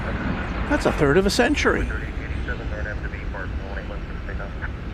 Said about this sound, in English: Coming here to see us. 1993. A 32-year-old aircraft.